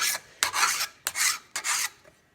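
A file rasps burrs off the bar of a Homelite XL12 chainsaw in four close, even strokes with short pauses between them.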